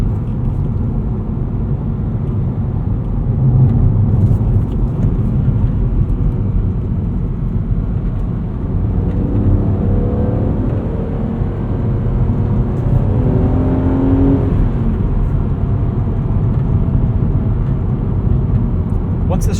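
A 2008 BMW Z4 M Coupe engine droning steadily from inside the cabin while driving, with a smooth whirring hum that rises in pitch midway as the car accelerates, then settles back into a constant road rumble.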